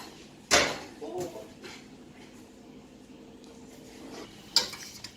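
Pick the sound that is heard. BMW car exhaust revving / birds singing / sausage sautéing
sausage sautéing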